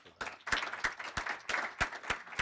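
An audience applauds at a Rotary Club of Des Moines meeting, a moderate steady patter of many hands clapping with sharper individual claps standing out, indoors and continuous.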